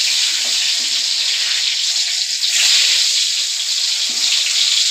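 Turmeric- and salt-coated potatoes fry in mustard oil in a wok, a loud close hissing sizzle that holds steady throughout, with no talk.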